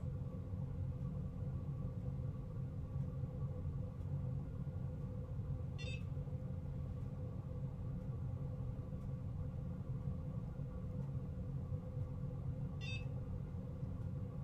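Two short electronic beeps, several seconds apart, over a constant low engine-like rumble.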